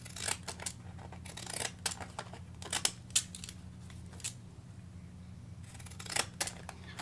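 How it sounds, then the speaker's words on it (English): Scissors cutting gelli print paper, a run of quiet, crisp snips in irregular bursts with pauses between them, close up and alone. "I love these scissors because I don't really worry about trying to make it even."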